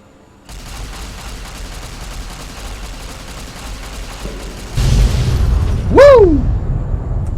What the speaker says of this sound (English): I noticed that there was a warhead we didn't detonate. So we gotta do that.